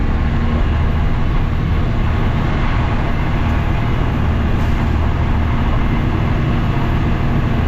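A 1988 Mack DM dump truck with a 13-speed double overdrive gearbox climbs a driveway in direct-side first gear, its loud, constant diesel rumble droning heavily throughout.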